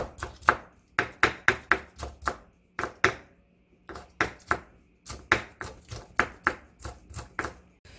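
Rapid knife chops on a cutting board, slicing vegetables and Cheongyang chili, come in quick bursts of sharp, close taps, with short pauses between runs and no talking.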